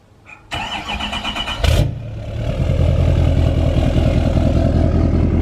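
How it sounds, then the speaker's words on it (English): An L5P diesel truck cold-starts by remote start: a short cranking burst, then the engine catches with a loud flare and settles into a steady, rough, clattering diesel idle close by, with no talk. "let's get a little cold start of it. I'm gonna remote start them all."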